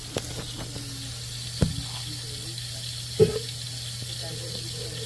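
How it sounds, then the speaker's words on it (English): Steady hiss of water leaking close by from a ruptured waterline near a toilet, with a couple of faint knocks and clicks over the continuous flow. "So it looks like it's a waterline rupture."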